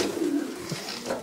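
Pigeons coo inside a pigeon loft in a brief, close, soft burble of low throaty calls.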